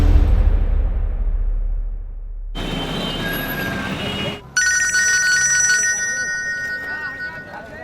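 A telephone rings indoors in a home, an electronic ringtone starting midway and repeating steadily, with voices and background noise around it.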